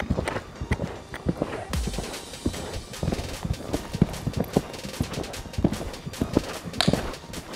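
Hooves of a horse clip-clopping at a steady walk-to-trot rhythm on an indoor cross-country course, close and clear throughout with a few sharper strikes.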